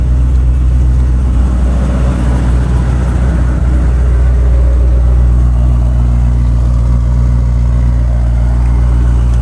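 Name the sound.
Datsun 280Z engine running with exhaust leak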